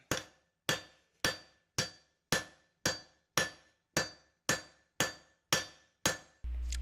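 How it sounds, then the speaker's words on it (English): A hammer strikes hot Damascus steel, forging out the horns of a camping knife, in eleven evenly spaced, sharp ringing blows about half a second apart, close and clear with no talking, before a low steady hum takes over at the end. "Now I'm going to forge out the horns a bit."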